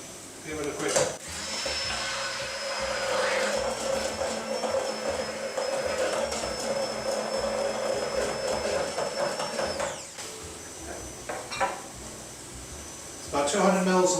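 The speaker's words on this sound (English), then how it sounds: "Stick blender." A stick blender whirs through egg with sea salt and Dijon mustard for mayonnaise, a steady droning motor for about nine seconds before it stops, followed by a few light kitchen knocks.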